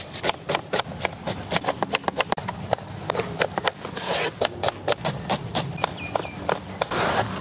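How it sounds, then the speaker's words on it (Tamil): A knife chops onions on a board in an outdoor village kitchen making bread omelette, a fast run of sharp, close, evenly spaced cuts. "பாய் தம்பி, வெங்காயம் கட் பண்ணுறங்க."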